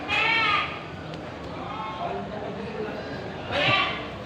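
Boer goats bleating at a farm, with a loud nearby bleat at the start and another toward the end, while someone talks through the middle.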